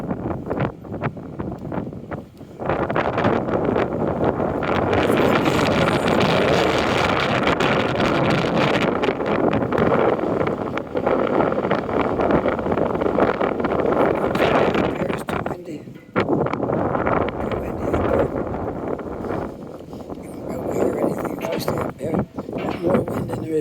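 Strong wind roars and buffets the microphone at an outdoor lookout above the steps on Portland Street in Dartmouth, a loud continuous rush that dips briefly about two-thirds of the way through.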